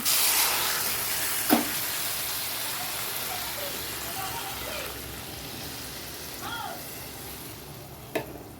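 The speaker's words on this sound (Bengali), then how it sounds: "মাছটা এবার জল দিয়ে দিচ্ছি দেখো" Water poured into fish curry in a hot pan, a loud steady hiss and bubbling sizzle with a few faint clinks and brief whistling tones, heard close and without speech.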